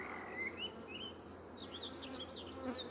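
Honeybees buzz around an open Dadant hive, a soft steady hum with a few birds chirping faintly in the background.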